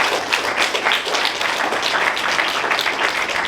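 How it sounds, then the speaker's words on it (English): An audience at a startup competition gives a steady round of applause for the judges, dense broadband clapping that holds evenly for a few seconds without pauses. "let's give them one more round of applause"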